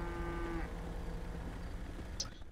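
A cow in a roleplay video game lets out a single low moo, close and fairly clear, over a quiet game background that ends in a brief high chirp.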